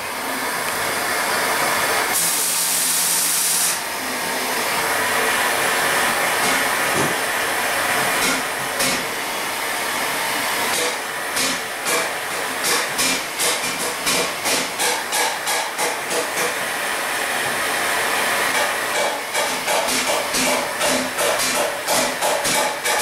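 A heat gun blows hot air onto an engine crank main bearing, a loud steady hissing roar that shifts tone as it is moved, later breaking into a rapid series of short pulsing bursts.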